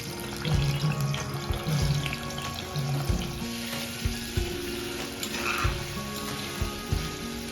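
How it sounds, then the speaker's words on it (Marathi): Paneer pieces sizzle and crackle in hot oil, with occasional clinks and scrapes of a utensil against the pan; no one speaks. "त्यामध्ये आता हे पनीरचे तुकडे केले आणि ते थोडे आपण तळून घेऊ"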